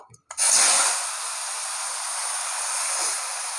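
A sudden loud hiss bursts out as potatoes hit hot oil with turmeric in a village kitchen pan, then settles into a steady, even sizzle that continues without pause.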